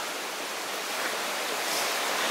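Water flows steadily in a creek beside an old quartz mine, a constant broadband rushing that builds slightly toward the end, with no voices.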